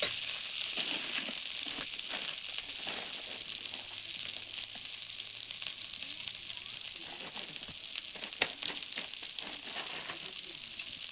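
Ground green pea filling with sugar fries in a pan, giving a steady broadband sizzle with scattered soft crackles and stirring scrapes throughout.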